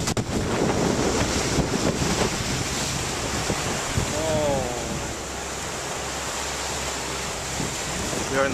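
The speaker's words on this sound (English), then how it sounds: "We are in the Pacific Ocean." Pacific Ocean waves and wind off San Lucas wash and roar steadily with heavy wind buffeting near the shore, and a brief voice rises faintly midway.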